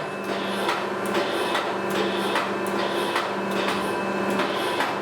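3E711V surface grinding machine running, a steady mechanical hum with regular light clacks repeating about every half second, moderately loud and close, with no voices.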